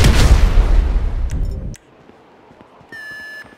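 An explosion in the video game GTA V during a federal building raid bursts loud and deep, then rumbles and decays over about two seconds. It is followed by quiet and then a high electronic alarm tone.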